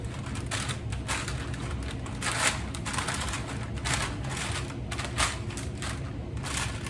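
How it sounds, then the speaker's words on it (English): Paper crackles and rustles steadily while a haystack mixture is stirred, a dense, busy crinkling with a few louder bursts, close up and with no voices. "That's some loud paper."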